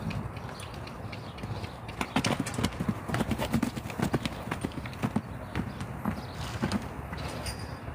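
A mustang's hooves clip-clop close by in a steady walking rhythm of sharp knocks. A faint creak sounds now and then, with no voices.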